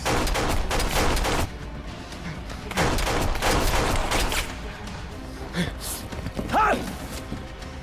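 Bursts of gunfire ring out in a tense confrontation, with two loud rattling volleys followed by scattered sharper shots, while voices shout in the background.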